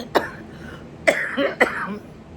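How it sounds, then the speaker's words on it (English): A woman in a mobile home with a sore throat coughs three times, short and fairly close, with brief pauses between the bursts. "the coughing"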